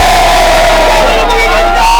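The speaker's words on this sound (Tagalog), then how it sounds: "Sigawan para sa mga panalo! Sigawan ng mga gwapo!" Crowd shouting and cheering at an outdoor street rap battle in Batangas, a loud sustained mass of voices with whoops and yells for the full two seconds, close and dense.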